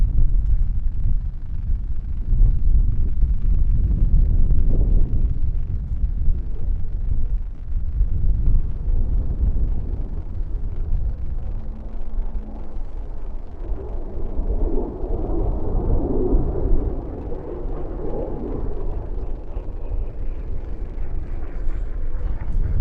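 A Grumman Bearcat racing aircraft flies at the Reno Air Races, giving a continuous deep, rumbling engine roar mixed with wind buffeting, loud throughout.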